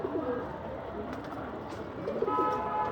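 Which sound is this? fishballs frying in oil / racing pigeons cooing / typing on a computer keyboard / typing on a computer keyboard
racing pigeons cooing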